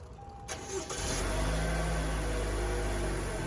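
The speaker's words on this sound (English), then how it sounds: "Just hit the lock button 3 times and it should start the vehicle" A 2019–2023 Toyota RAV4 started by a plug-in remote start kit: a few faint clicks, a short cranking, then the engine catches and settles into a steady, close idle with no talking.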